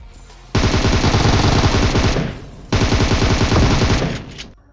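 Two long bursts of rapid automatic gunfire in the PUBG Mobile game, loud and close, each lasting around two seconds with a short gap between them, and no talking.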